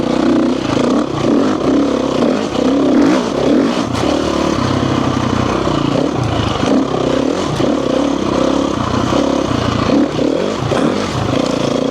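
A motorcycle being ridden slowly, its engine a loud, steady drone with a low throbbing rumble and wind noise throughout, and no voices.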